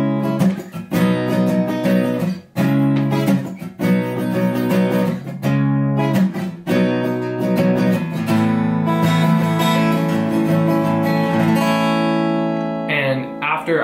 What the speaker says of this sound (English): I was sitting on my guitar one night, and I was just fooling around with some chords.